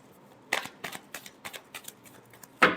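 Tarot cards being shuffled by hand, a series of quick papery riffles and snaps in uneven bursts, close and clear, ending with a sharper final flutter.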